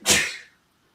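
A single sharp sneeze bursts out loudly and close, then fades within about half a second into silence.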